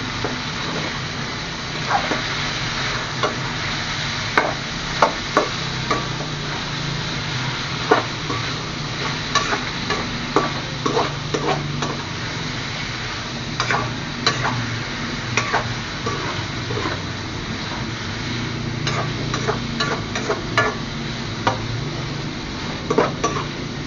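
Pork ribs browning in a pan for kaldereta, with a steady low sizzle under frequent clinks and scrapes of a utensil against the pan throughout.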